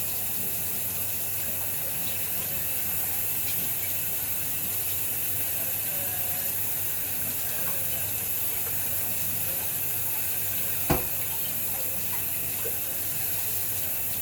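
Tap water runs steadily over a juicer part being rinsed in a sink, a continuous close hiss of flowing water with one sharp knock partway through.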